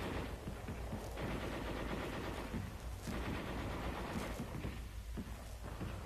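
Heavy machine guns fire in a 1944 attack, sounding as dense, rapid rattling bursts that keep going throughout, loud but somewhat muffled and old-sounding.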